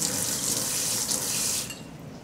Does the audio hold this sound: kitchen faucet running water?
yes